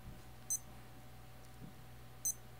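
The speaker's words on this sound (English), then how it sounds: "Until you hear the beep." Two short, faint electronic beeps from an Adidas digital watch (APD6055, ADP3264 or APD6060 type) during button setting, spaced well apart over a quiet background hum.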